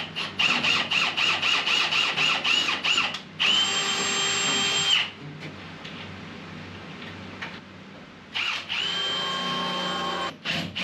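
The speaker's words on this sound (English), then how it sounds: "It's taking two people on the drill to get the thing through." A power drill whines and squeals in repeated bursts as it bores through stainless steel, with a ratcheting start, quieter gaps between runs, close and loud.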